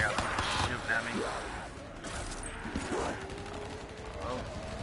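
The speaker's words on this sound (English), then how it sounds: "then I got people shooting at me" Enemy gunfire in a Black Ops 3 zombies nightmare-mode mission, a steady dense crackle of shots running under game noise and a talking voice throughout.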